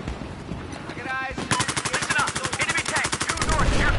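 Rapid video game gunfire bursts out after a quieter opening, a fast rhythmic string of shots that grows louder toward the end, close and dominant over faint background sound.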